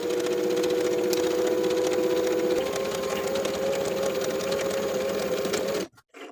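A sewing machine runs steadily along the center seam of a front bodice, its close motor whir and rapid stitching continuous for several seconds before stopping abruptly.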